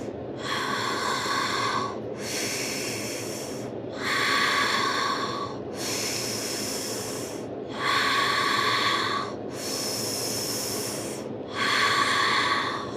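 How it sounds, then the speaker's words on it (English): Slow, steady breathing through the mouth during a seated knee exercise, with seven long hiss-like breaths in a regular rhythm of about two seconds each, close and fairly loud, no talking. "keep breathing in through the mouth and out through the mouth"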